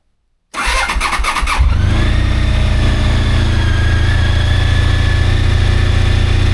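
Motorcycle with about 90,810 miles on it, parked close against a wall in an enclosed workshop garage, cranks briefly and fires up, then settles into a loud, steady idle that fills the space.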